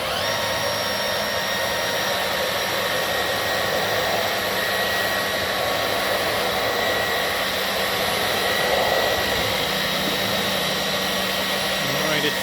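A Dyson V15 Detect cordless vacuum runs at a constant high-pitched whine and rush of suction, steady for several seconds as it tries to pull up a piece of string, close and loud.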